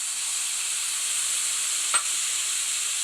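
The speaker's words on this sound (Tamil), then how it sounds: "எல்லாத்தையும் சேர்த்து நல்லா வதக்கிக்கலாம்." Egg puff filling sautés in a pan with a steady, bright sizzle and hiss throughout, plus one brief stirring scrape near the middle; no talking.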